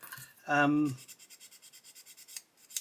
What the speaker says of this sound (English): So we'll just get those seams there just sanded out a touch. Let's get a bit of a coarser sander in there.